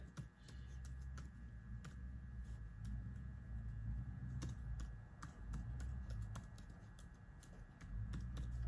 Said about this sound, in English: I hunt and peck when I type.